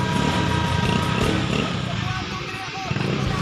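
Honda Scoopy motorcycle engine idling steadily after an engine refresh and crankshaft replacement, a continuous close low rumble with a person talking over it.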